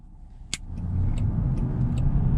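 A Land Rover Defender 90 with a cloth roof and 20-inch wheels on all-terrain tires cruises on the highway, its engine and road rumble swelling into a loud steady drone after a brief click.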